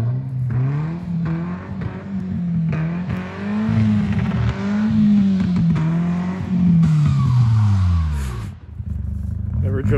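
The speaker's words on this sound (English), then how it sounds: "we're going to get the Beetle, come flying through here, miss this jump, and smoke that jump." A Beetle car in a driving video game revs and races through jumps, its engine pitch rising and falling with gear changes, loud and close, while a person talks over it.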